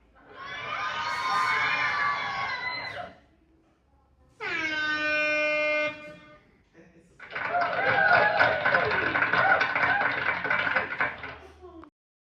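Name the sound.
Tronsmart Halo 300 speaker sound effect buttons: laughter, applause, party sounds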